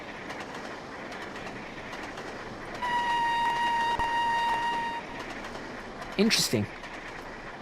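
A diesel train runs along the Settle and Carlisle line in the Trainz railway simulator, a steady rolling rumble with a sustained horn blast in the middle, a sharp squeal near the end and a brief spoken word.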